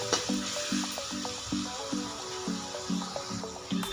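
Green chilies and turmeric sautéing in hot oil for a cabbage and chana dal dish, a steady soft sizzle broken by about eight regular spatula stirring strokes, close up with no talking.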